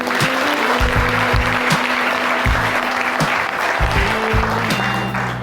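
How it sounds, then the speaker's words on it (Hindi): School children at a model school in Sardarpur, Dhar, clap together in a steady, dense burst of applause that stays loud and close throughout, with no talking over it. "अपने लिए ताली बजा लो।"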